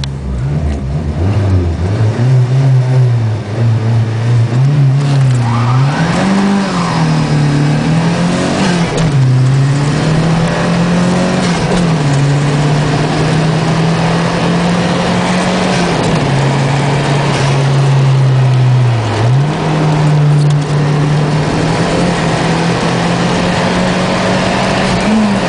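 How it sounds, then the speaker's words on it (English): A 1987 Renault 5 GT Turbo phase 2 pulls hard from standstill to 100 km/h, its engine droning loud and close with repeated rising pitch sweeps and brief dips at each gear change, steady and uninterrupted throughout. "this is my little Renault 5 GT Turbo, phase 2 for 1987."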